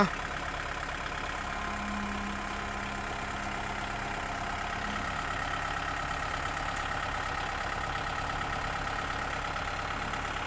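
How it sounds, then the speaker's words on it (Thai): A new tractor engine runs steadily at a sugarcane farm, a continuous mid-pitched idling drone that stays even and fairly close throughout, with no talk over it. "เพิ่นใส่รถไถใหม่เลยนี่"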